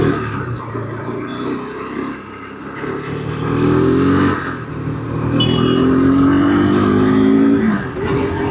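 A KTM RC390 motorcycle pulls away and accelerates, its engine note rising in several climbing sweeps and staying loud and close throughout, with steady road and wind rumble underneath.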